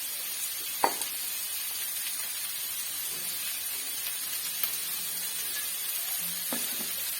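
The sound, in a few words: ginger sautéing in pan for egg roast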